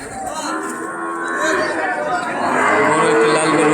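Cattle at a livestock market bellow in a long, drawn-out moo that swells louder toward the end, close by, with faint crowd chatter behind.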